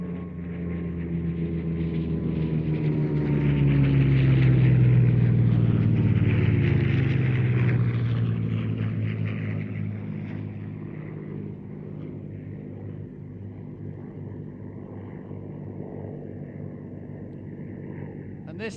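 A Mustang fighter plane's piston engine droning past as a loud rising and fading rumble, swelling in the middle then settling into a steadier distant hum.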